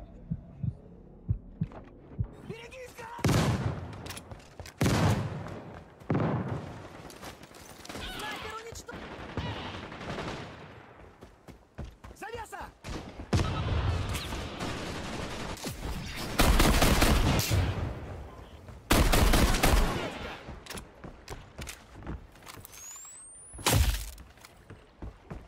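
Rapid submachine-gun bursts from a PPKh in the online shooter Caliber, on the Dam map in a destruction match, crackling in repeated loud volleys amid game effects, with a voice talking over parts.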